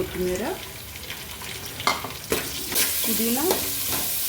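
Chicken for biryani fries with softened onions, mint and coriander in a pan, giving a steady sizzle with a few sharp utensil knocks against the pan and faint tonal sounds drifting in the background.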